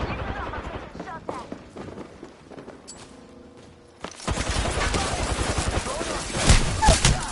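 Automatic weapon fire erupts in bursts in a multiplayer shooter arena match, dense and close, after a quieter stretch where a player talks over the game.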